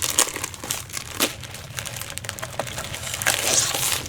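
Packaging around a Stampin' Up! designer paper stack being torn open, giving close, crackly crinkling bursts with sharper rustles near the start and a louder crumple toward the end, with no talking.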